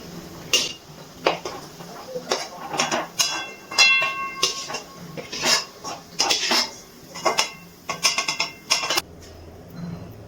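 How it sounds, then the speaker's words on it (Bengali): Fried drumstick-flower fritters lifted out of hot oil with a metal spatula, giving a series of close clinks and scrapes against the pan in irregular bursts, with brief quiet gaps between them. "বড়াগুলো খুব ভালোভাবে ভাজা হয়ে গেছে। এবার তেল থেকে তুলে নিচ্ছি।"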